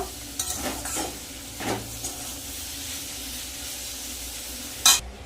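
Snake gourd fries in a pan with a soft, steady sizzle, broken by several scraping stirs and a sharp metallic clink near the end; no talking.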